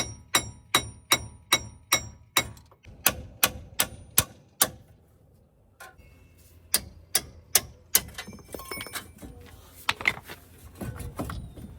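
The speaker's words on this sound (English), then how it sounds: "My good friend Corey gave me this ball peen hammer." A ball peen hammer pounds a seized wheel hub on a 2010 Silverado during wheel bearing replacement: a rapid series of loud, sharp metallic blows, a short pause, then more irregular strikes and scraping clatter, close and without talk.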